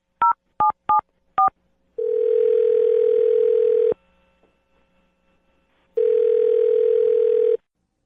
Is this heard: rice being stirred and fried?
no